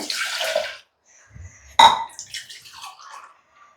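Milk pours into a measuring cup while making wheat payasam, with a brief splashy pour at the start, a pause, then a stronger gurgling stream and trickle fading out, heard close with no speech.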